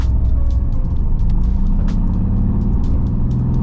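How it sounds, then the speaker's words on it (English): A Mercedes-AMG GT S with a rear-wheel-drive V8 drones steadily from the cabin while driving, a deep, constant engine rumble under faint road and wind noise, with no talk. "Rear-wheel drive V8, amazing sound."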